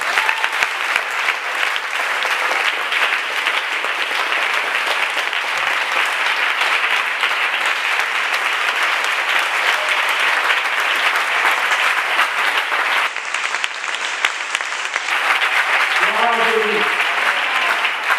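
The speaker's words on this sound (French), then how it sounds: "Acclame maintenant." A church congregation applauds at a spiritual revival gathering, with dense, sustained clapping throughout and crowd voices and a few shouts mixed in near the end.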